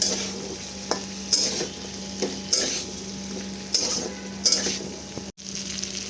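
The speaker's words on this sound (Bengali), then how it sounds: "সব কিছু আলুর সাথে ভালো করে মিশিয়ে নেবো" A utensil scrapes around a pan of potatoes in a series of separate strokes over a steady, soft sizzle of frying.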